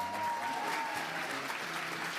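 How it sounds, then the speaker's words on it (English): Audience applause fills a charity fashion show as a model finishes her walk, a steady, fairly loud wash of many hands clapping throughout, with faint voices and a thin tone underneath. "Mackenzie, give her a round of applause."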